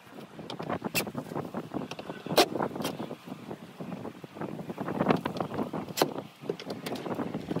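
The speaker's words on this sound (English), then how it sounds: "It was a little bit of a windy day on top of the playhouse when I was doing this." Gusts of wind buffet the microphone on top of a playhouse in irregular low rumbles, with scattered knocks and clicks from nearby work building a bench from deck boards.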